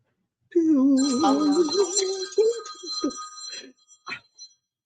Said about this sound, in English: My phone's gonna interrupt us, and I'm not even gonna take it out.